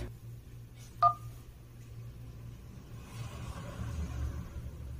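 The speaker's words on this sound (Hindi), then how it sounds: "To activate beneficiary, please press 1." A single telephone keypad tone sounds once as the 1 key is pressed during an automated Alinma Pay banking call, a short clear beep over a low steady rumble.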